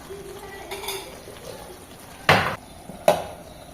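A lid is set on a cooking pot to steam a semolina and almond dish. Two sharp metallic clanks ring out close by over a faint kitchen background.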